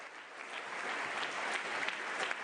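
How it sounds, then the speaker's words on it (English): Steady audience applause in a large room at the United Nations young activists summit in Geneva, a fairly faint, even wash of many hands clapping throughout. "And I'll just ask for a round of applause for them"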